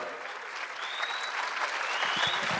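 Enthusiastic audience applause fills a hall during a Gujarati community anniversary cultural program in Muscat, a steady dense clapping that swells slightly louder toward the end, with faint crowd voices beneath.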